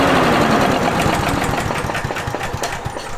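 A small lawn mower engine fitted with a turbocharger powers a VW Beetle, running loud and close with a rough, uneven chugging that settles into rapid knocking pulses.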